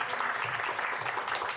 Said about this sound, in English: Can we get a big round of applause, Lorenzo?